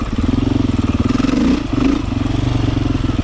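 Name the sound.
Beta 500 dirt bike engine running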